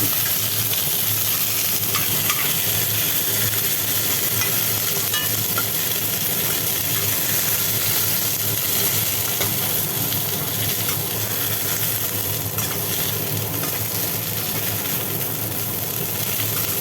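Pointed gourd and potatoes fry in oil in a pan, giving a steady, dense sizzle that runs unbroken from start to finish, with no voices.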